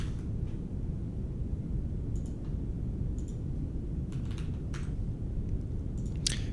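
Sparse keyboard clicks and taps over a low steady hum, a few brief bursts of keystrokes scattered across the stretch, fairly quiet.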